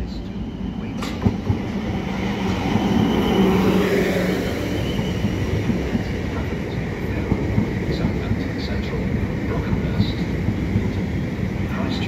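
Two coupled SWR Class 444 Desiro electric units arrive into Guildford station, a continuous rumbling roll of wheels on track that stays loud and close throughout, with faint rattles and a brief brake whine, and some voices in the background.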